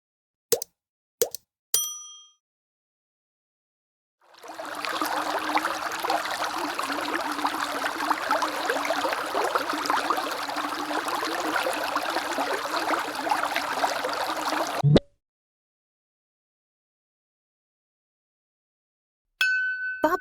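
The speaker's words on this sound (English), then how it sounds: "Bubbling brook." A bubbling brook streams steadily for about ten seconds as a continuous close watery rush, preceded by a few sharp isolated plinks and ending abruptly, with a faint tone at the very end.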